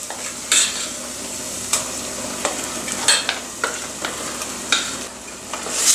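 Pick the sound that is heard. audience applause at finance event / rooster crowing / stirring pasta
stirring pasta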